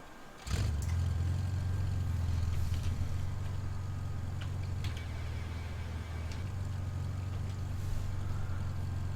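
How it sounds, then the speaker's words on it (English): A DeHavilland Dove's number 2 piston engine in the FS2004 flight simulator catches with a sudden start and settles into a steady, loud low drone with rhythmic throb, running alone for several seconds. "So increase the throttle a bit on the number 2 engine and start."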